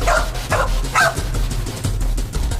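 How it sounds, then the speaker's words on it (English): Police dogs from West Yorkshire Police barking, a run of three loud, close barks about half a second apart followed by lower whimpering and yipping over steady background noise. "And Britain's highest earning dogs, Eddie and Keela,"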